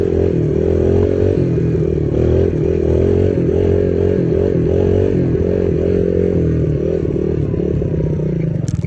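A farm tractor engine idles while warming up before fertilizing, giving a loud, steady low rumble with a faint rhythmic pulse that runs unbroken and alone.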